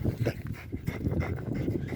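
A dog pants close by during frisbee play outdoors, fast rhythmic breathy huffs with no voices.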